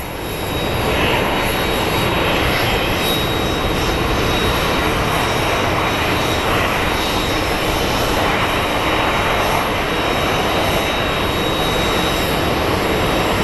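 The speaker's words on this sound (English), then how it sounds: "I think that was a helicopter in the background." A helicopter flies near Phoenix Sky Harbor International Airport, its engine and rotor roar holding steady and fairly loud for the whole stretch, with no talking over it.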